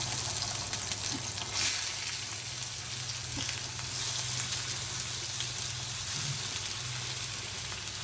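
Onions and chillies fry together in plenty of oil for a bitter gourd dish, giving a steady, even sizzle that runs unbroken from start to finish with no one talking.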